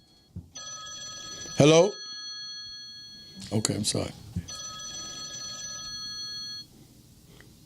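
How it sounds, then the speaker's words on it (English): A telephone rings during a live call-in talk show, sounding in long steady electronic bursts at moderate volume while someone talks over it and answers. "That's a phone."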